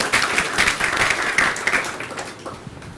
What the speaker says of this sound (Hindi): तालियां बजनी चाहिए सर।